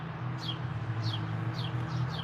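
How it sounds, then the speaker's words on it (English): Faint, high bird chirps repeat about four or five times, downward-sweeping calls spaced roughly half a second apart over a steady low hum. "you can hear the birds"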